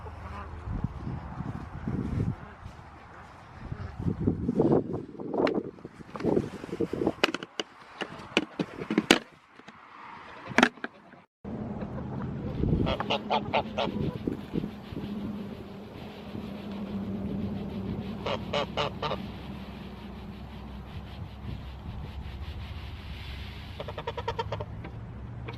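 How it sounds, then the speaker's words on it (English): Geese honking on a homestead, repeated nasal honks and quacking calls scattered over several seconds amid rustling and farmyard background noise. "Keep an eye on those birds, baby."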